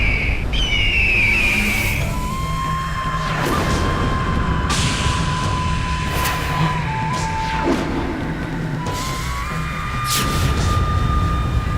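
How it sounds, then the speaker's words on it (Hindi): A huge mythical bird squawks in a dramatized devotional scene, a loud shrill cry at the start followed by booming, whooshing effects and sustained tones over a dense dramatic soundtrack. "इतना विशाल काय पक्षी"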